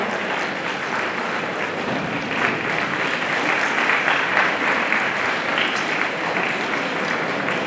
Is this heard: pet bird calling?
no